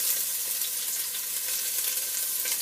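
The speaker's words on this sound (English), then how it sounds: "So I'm just going to put in the garlic, the chilli, the ginger, the lemongrass. Just let that sizzle" Steady, close sizzling of garlic, chilli, ginger and lemongrass frying in hot oil, a continuous crackling hiss with no talking.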